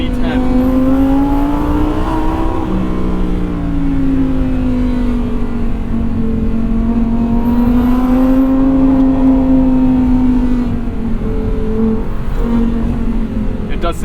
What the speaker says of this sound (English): the hills are alive with the sound of V10